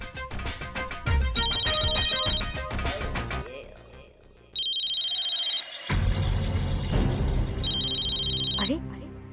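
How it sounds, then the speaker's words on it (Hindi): A phone rings with a bright, repeating electronic ringtone, loud and close, in bursts interrupted by dramatic television music and sound effects. "मेरे इस नंबर पर फोन कैसे आ सकता है?"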